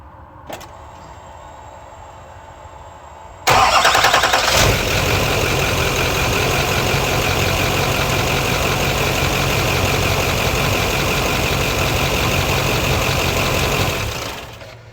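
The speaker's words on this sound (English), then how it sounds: "I'm gonna set the camera up and fire the truck up" A diesel pickup truck fitted with an S300 turbo cranks and fires up, then settles into a loud, steady idle with a knocking rumble that fills the rest of the clip before cutting off near the end.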